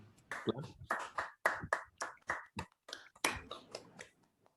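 Seminar participants clap over Zoom, each heard through their own microphone: a string of separate compressed bursts arrives unevenly, some sharp and some muffled, over a few seconds, with brief gaps of silence between them.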